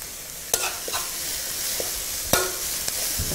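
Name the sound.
onion, carrot and ham stir-frying for fried rice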